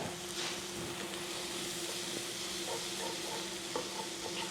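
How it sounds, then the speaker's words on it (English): Onions and hamburger meat fry together in a pan, a steady close sizzle with occasional stirring scrapes and no talking. "So, onions frying."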